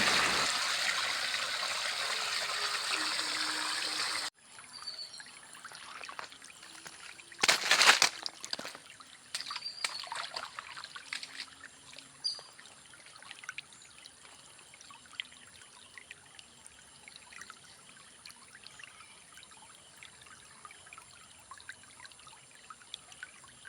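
Monsoon rainwater flowing along a road: steady rushing water for a few seconds, then quieter trickling and splashing flow with scattered bursts, continuing without voices.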